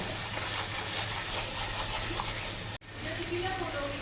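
Oil and vegetables sizzle steadily in a pan while being stirred, a close, continuous frying hiss broken by a brief pause near the end before the sizzle resumes.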